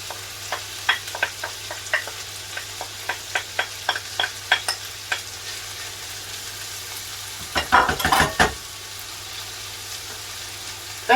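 Mushrooms, onions and garlic sizzle in a frying pan over medium heat for coq au vin, with soft frying hiss and a run of light stirring clicks, then a brief louder scrape of ingredients being moved.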